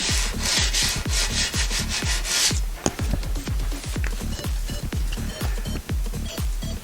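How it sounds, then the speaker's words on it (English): An aluminum rim from an OBS Ford is sanded by hand with 80-grit sandpaper, giving loud, rapid, rhythmic rasping strokes, about three per second, that continue without pause. "We'll sand it all down with the 80."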